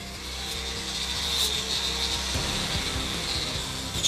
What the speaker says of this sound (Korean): 손 사포질 대신 전동 샌딩기를 사용하지만 귀를 울리는 소음과 묵은 먼지는 피할 길이 없다.